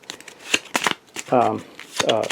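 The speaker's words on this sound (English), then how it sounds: "We got to shuffle up the deck again, the Mythos deck" Cards from the Mythos deck in a Cthulhu: Death May Die board game being shuffled, crisp riffling bursts close by, with a person talking in between.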